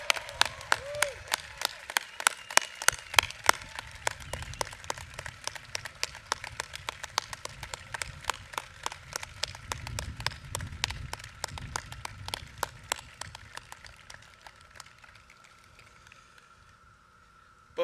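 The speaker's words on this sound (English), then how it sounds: "let us offer one round of applause for the class of 2021" A graduation crowd applauds the class of 2021 with steady, dense clapping that goes on for most of the stretch at a moderate distance, then thins and fades toward the end.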